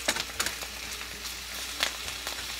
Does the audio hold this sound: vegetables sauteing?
yes